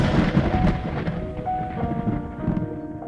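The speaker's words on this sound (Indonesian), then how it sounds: "Sekejap terdengar suara petir yang menggelegar." Rumbling thunder sound effect rolls loudly through a dramatized story, a broad deep crash with hissing rain-like texture and a sustained tonal drone beneath it.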